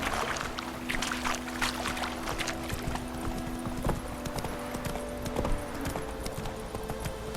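A horse gallops in The Witcher 3 video game, its rapid hoof clip-clops thudding in a steady driving rhythm, close and fairly clear, with no speech.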